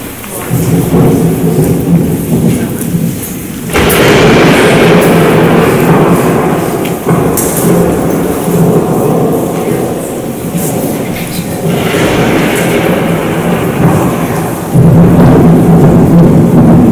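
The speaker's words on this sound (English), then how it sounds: "Trifle of thunder, nothing to worry about." Thunderstorm sound effect played loudly during a high school murder mystery play, with heavy rain and rolling thunder swelling in several surges across a sustained roar.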